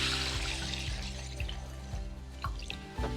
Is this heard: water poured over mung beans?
yes